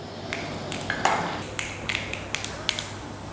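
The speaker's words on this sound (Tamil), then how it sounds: "பார்த்திங்கன்னா நல்லா கடுகு பொரியுது" Mustard seeds crackle and pop in hot oil while tempering for South Indian coconut rice, a series of sharp, close ticks and snaps scattered irregularly over a low, steady sizzle.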